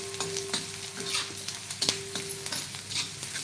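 Boiled eggs turned in oil with red masala give a soft, steady sizzle. Repeated spatula scrapes and stirring knocks against the pan sound close by.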